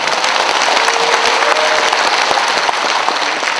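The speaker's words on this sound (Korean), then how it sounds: "뜨거운 박수로 우리가 응원을 합니다" A crowd gives dense, loud applause at a civic association's founding ceremony and rally about relocating Gwangju's military airport, a sustained wash of clapping close up.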